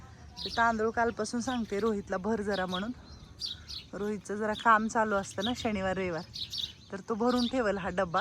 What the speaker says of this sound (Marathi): चिमण्यांचा किलबिला तुटलेला आहे इकडं